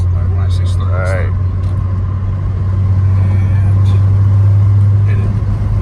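An Audi S5 engine pulling in fourth gear at around 2,000 rpm holds a deep, steady, loud drone throughout, with a brief voice near the start.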